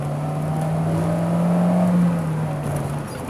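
A car engine accelerates with a rising, whining tone that swells and then eases off, heard up close from inside the vehicle with steady road noise beneath.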